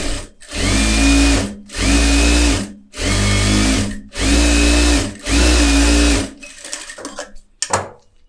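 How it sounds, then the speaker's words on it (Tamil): A sewing machine stitches along a fabric edge in five loud, even bursts of rapid whirring with short pauses between them, followed by softer handling clatter. "இப்போ நான் ஓரத்தில் தையல் போடுறேன்"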